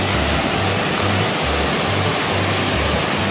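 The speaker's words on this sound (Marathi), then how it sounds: "त्या पावसामुळे जो पाऊस पडला त्याच्यामुळे धबधब्याला फोर्स आलेला आहे भरपूर" A forceful waterfall swollen by heavy rain roars near a temple in the hills, a loud, dense, continuous rush of falling water with no other sounds.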